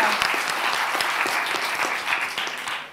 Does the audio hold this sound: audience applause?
yes